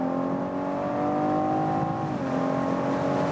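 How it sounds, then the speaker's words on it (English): A BMW M440i convertible accelerating with the top down inside a tunnel, its engine droning loud and steady and rising in pitch, with a brief dip at a gear shift, echoing off the walls. "let's accelerate it out using the shifting pedals"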